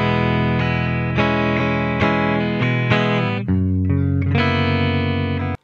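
An electric guitar runs through a compressor with the chorus switched off, playing a sustained, evenly compressed melodic phrase. Notes ring into each other, with a brief dip midway before the line resumes.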